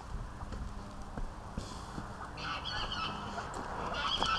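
Ducks and geese calling with repeated honks over steady outdoor background noise, moderately close, with some soft footstep-like thuds.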